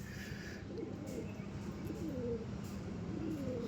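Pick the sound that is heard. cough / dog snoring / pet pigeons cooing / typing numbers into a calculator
pet pigeons cooing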